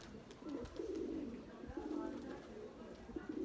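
Pigeons cooing in low, repeated throaty phrases, fairly close, with wind noise and faint background sounds throughout.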